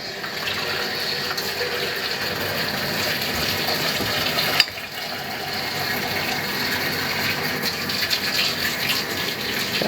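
Water runs from a tap into a mason jar, a loud steady hiss and splash close by, with a brief sharp knock partway through.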